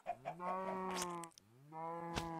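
Chickens cluck in the Minecraft video game, several close, clear, bird-like calls in short bursts with a brief gap in the middle, heard alone without talk.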